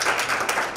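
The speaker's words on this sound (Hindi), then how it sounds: "जोरदार तालियां हों।" Audience applause at a Hindi book launch event, a short dense wash of clapping from many hands, loud and close, with no speech over it.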